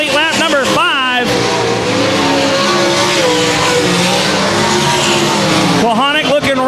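Race cars roar around a speedway oval in a loud, sustained engine drone that swells as they pass, with a track announcer calling the action over it.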